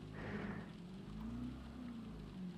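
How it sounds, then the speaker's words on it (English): Steady rain hisses in a racing video game on the Sardegna C reverse track, a continuous wash of falling water running beneath low engine drone throughout the short stretch. "You need traction control on in this game when it rains like this."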